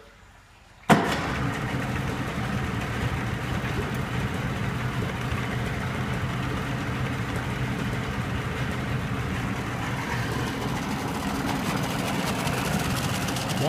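The engine of a 2002 Landau MV1670 16-foot tunnel hull river boat cranks and catches abruptly, then settles into a steady, rumbling idle that continues for over ten seconds.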